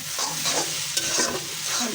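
Hilsa fish frying in a pan while it is stirred, a dense close sizzle with scraping stir sounds throughout.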